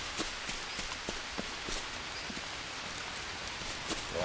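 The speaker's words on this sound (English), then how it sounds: "like when the rain hits the roof" Rain pattering on a banana leaf roof in the jungle survival game Green Hell, a steady soft hiss with scattered louder drops tapping irregularly, even and continuous with no talk.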